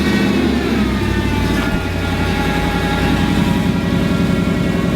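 A cold Mercedes-AMG engine of about 500 horsepower wakes up with a deep, rumbling idle that stays close and steady, with no talking over it.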